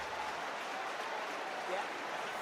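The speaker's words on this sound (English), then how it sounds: "the home crowd, boy, listen to them now" Home supporters at a St Helens rugby league match against Warrington Wolves roar and cheer in a steady, dense wash of crowd noise that fills the whole stretch, with faint scattered clapping inside the din.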